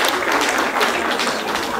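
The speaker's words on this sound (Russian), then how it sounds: "ваши аплодисменты, Крыничка." A crowd at a choreography competition applauds steadily and fairly loudly, a dense wash of clapping filling the whole moment.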